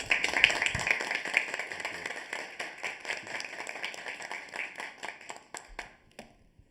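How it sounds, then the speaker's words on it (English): A school board meeting audience breaks into a round of clapping, a moderate burst of individual claps that thins out and fades to silence at the end. "I say round of applause for this gentleman."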